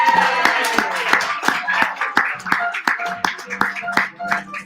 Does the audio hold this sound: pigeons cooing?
no